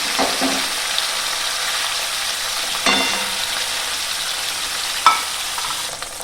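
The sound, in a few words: paneer frying in oil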